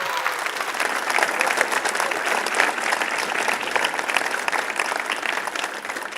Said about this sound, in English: Let's give another big round of applause for these awesome startups we had.